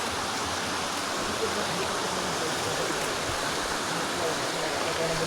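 A muddy, rain-swollen river flows near a waterfall, giving a steady, dense roar of rushing water that stays constant and close throughout with no pauses.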